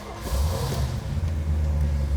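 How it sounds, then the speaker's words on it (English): A 1967 Pontiac GTO's 400 HO cubic inch engine rumbles close by just after firing up, a deep, steady, throbbing idle with slight surges, heard alone. "Absolute beautiful sound of that Pontiac 400 HO cubic inch engine pumping out 360"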